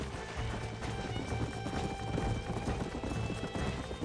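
Horse hooves clip-clop in a steady, brisk rhythm in the Red Dead Redemption video game, close and continuous over a low ambient bed with faint game sounds.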